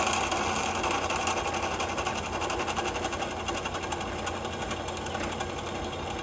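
A drill bores a 3/16 inch hole through a small blacksmith's hammer pendant, producing a continuous, fast, buzzing whir at close range that fades slightly toward the end.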